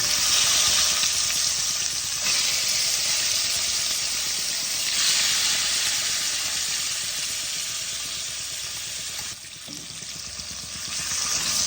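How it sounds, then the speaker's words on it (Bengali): Pieces of chitol fish belly fry in hot oil for a Bengali kalia, a continuous loud hiss and sizzle close by that swells and eases slightly, with no voices over it. "মাছগুলোকে আমি সুন্দর লাল করে ভেজে নেব।"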